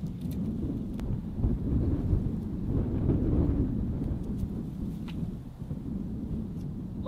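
Chilly wind blustering outdoors in a garden on the Canadian prairies during autumn garlic planting, a steady low rumbling roar buffeting close to the microphone with brief gusts and a few faint clicks.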